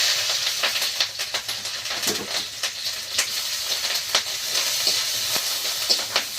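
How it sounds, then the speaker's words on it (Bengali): Onion and green chili sizzle steadily in hot oil, a continuous bright hiss with occasional sharp crackles and spits, close and fairly loud with no talking. "এবার কিন্তু তুলে নিচ্ছি এই যে তরকারি রান্না করার জন্য পেঁয়াজ আর কাঁচা লঙ্কা দিয়ে দিচ্ছি"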